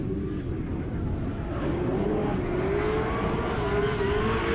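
A BMW E82 M drift car at a Drift France 2024 event finishes its run with a loud, sustained engine drone whose pitch climbs slowly and steadily, and no voices are heard.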